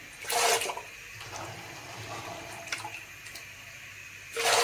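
Tap water runs and splashes in bursts at a kitchen sink as sprouted fava beans are rinsed, with louder gushes at the start and end and a quieter steady trickle between.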